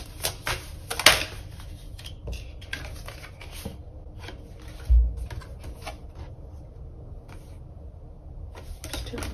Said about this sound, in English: I feel like I have to shuffle this deck really hard for like one card to come out